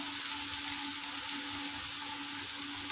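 Onions sauté in oil in a pan for poori potato masala, giving a faint, steady sizzling hiss with tiny crackles and no talking.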